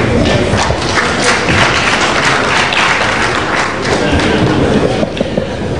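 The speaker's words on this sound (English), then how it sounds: "A warm round of applause for him." Dense, loud applause from an audience at a live aviation event in Nigeria, sustained clapping filling the whole stretch with occasional thumps and crowd murmur.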